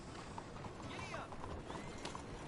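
Faint, distant hoofbeats of a horse galloping in a video game: a quiet, rhythmic clip-clop running steadily under a low background hum.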